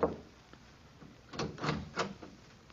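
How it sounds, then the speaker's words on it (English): Knocking on an apartment door in a 1943 radio drama, three or four soft, muffled knocks in a quick cluster after a quiet pause, faint and slightly lo-fi. "I knocked on the apartment door."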